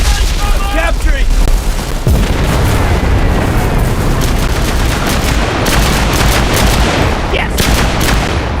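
A grenade goes off in the Enlisted battlefield shooter, a loud boom that is one blast within dense, continuous gunfire and battle noise.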